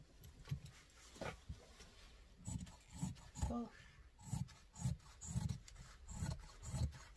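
Fabric being cut for a laptop case, heard as rhythmic rasping snips in a steady series close by, with quiet speech at times.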